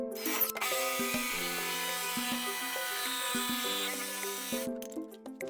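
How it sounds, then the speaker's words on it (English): A jigsaw cuts and trims wood. Its buzzing motor whine runs continuously at close range, with pitch dips as the blade bites into the workpiece, then cuts out near the end. "Gonna use the jigsaw and trim it out."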